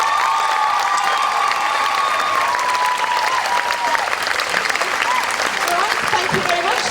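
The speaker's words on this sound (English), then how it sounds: "give yourselves a round of applause, everybody." Audience at the end of a dance show clapping steadily and loudly for several seconds, with some cheers and children's shouts mixed into the applause and a voice speaking faintly over it.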